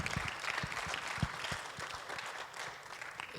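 A church congregation claps for the Lord during a Spanish-language sermon, a steady dense wash of hands with a few sharper low thumps, moderately loud and continuous throughout.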